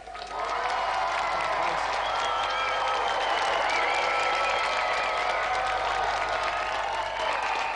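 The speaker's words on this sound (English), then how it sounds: "let's have another round of applause for our winner, Dave Goodyear, and our gallant finalist, Paul Mellerick" A TV game show studio audience applauds the winner with loud, sustained clapping mixed with cheers and whistles, a dense steady roar lasting several seconds.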